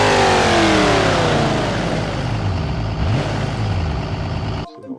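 A diesel-powered car in the BeamNG driving game pulls away and accelerates hard, its engine note loud and close and rising steadily, then cutting off abruptly near the end.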